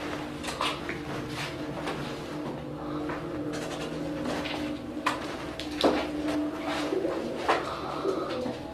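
Pigeons coo softly and repeatedly nearby, low throaty calls overlapping, with occasional light rustles and flutters in a quiet enclosed space.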